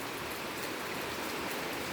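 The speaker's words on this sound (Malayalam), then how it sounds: "ഇപ്പം വീണ്ടും മഴ സ്റ്റാർട്ട് ചെയ്തു." Morning rain falls steadily, a soft, even hiss that continues without breaks for the whole moment, faint and with no voices.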